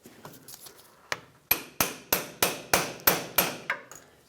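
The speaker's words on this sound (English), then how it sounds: "Make sure you don't damage anything as you're hammering up" A hammer taps a steering shaft joint upward while a rack and pinion assembly is replaced on a 1996–2002 Toyota 4Runner, landing about nine sharp, evenly spaced metallic blows, loud and close, with no voices.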